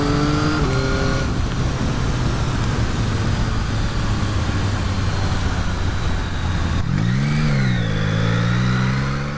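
A Yamaha XSR900 motorcycle engine pulls hard under acceleration, its loud tone climbing steadily, then dipping at a gear change before revving up again, close and continuous with no talk.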